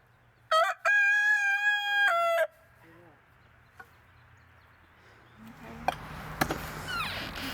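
A pet rooster crows loudly and close, one long strained cock-a-doodle-doo near the start, followed by quieter clucks and scuffling, with a soft voice and clattering toward the end.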